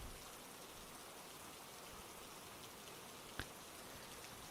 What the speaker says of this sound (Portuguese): A chuva ainda cai do lado de fora